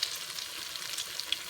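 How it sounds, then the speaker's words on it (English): A small test bit of latke batter with onions crackles and sizzles in hot frying oil, a bright continuous hiss with a few sharp pops, close and alone. "If it sizzles, you're ready to go."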